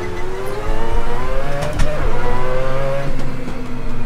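A loud Mazda 787B rotary-engine race car in the video game Assetto Corsa, at Laguna Seca, screams at high revs, its buzzing pitch climbing and dipping as it accelerates close by.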